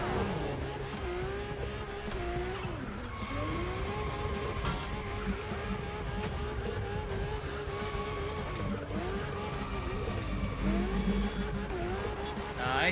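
Racing-game car drifting under a steady, loud engine drone, with rising and falling tire-squeal tones sweeping through as it slides, continuous throughout with no talk over it.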